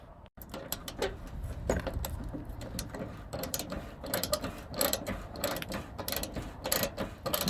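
A ratchet on an extension works an 8 mm fender screw loose under a 2001-2007 Dodge Grand Caravan, with rapid clicking pawl bursts in uneven runs, close up with no talking.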